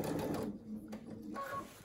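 A sewing machine stitches layers of a lined scrub cap in a short burst of rapid mechanical whirring that pauses briefly and starts again, close and fairly quiet, with no voices.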